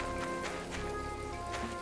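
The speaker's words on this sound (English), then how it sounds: "because it's raining" Rain patters steadily in the game My Time At Portia, a soft, even hiss of drops with faint repeated taps, quiet and unbroken with no voices.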